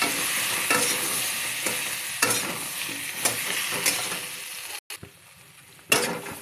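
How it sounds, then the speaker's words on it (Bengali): Young jackfruit and potatoes frying with turmeric in a pan, a constant sizzle broken by rhythmic scraping stir strokes, with a short gap before a final stroke. "এঁচড়গুলোকে হালকা করে ভেজে নিয়েছি"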